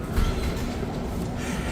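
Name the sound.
metro station with train passing, Washington D.C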